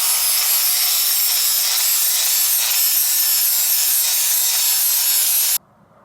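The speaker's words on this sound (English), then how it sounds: "I finished grinding that weld that goes around" A steady, loud grinding hiss as a cast aluminum weld on a thrift store table is ground down, continuing evenly for several seconds before cutting off abruptly.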